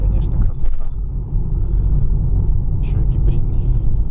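Toyota Harrier hybrid driving, a steady low rumble of road and engine noise heard from inside, with voices talking over it.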